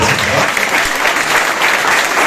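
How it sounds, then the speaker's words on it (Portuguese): A church congregation claps loudly and continuously throughout, a dense, close wash of many hands with no letup. "Você pode aplaudir o Senhor Jesus?"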